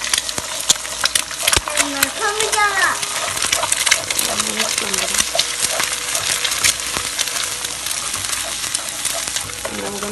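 An egg scrambles in hot oil in a pot, crackling and sizzling steadily while a utensil scrapes and clinks against the metal, with a person talking over the cooking throughout.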